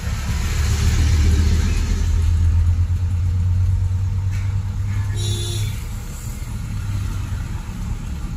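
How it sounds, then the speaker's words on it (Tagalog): Steady road traffic heard from inside a moving truck, with a low, continuous engine rumble and a faint rise and fall of revving from nearby cars. "Traffic."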